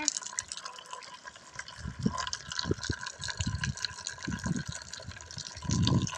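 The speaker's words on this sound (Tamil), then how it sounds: "ரொம்ப போகிற தண்ணி காய்ஸ், தண்ணி நிறைய வந்துருக்கு." Strong water flow gushes outdoors in steady turbulent rushing, with irregular splashing bursts and louder surges near the end, close and continuous.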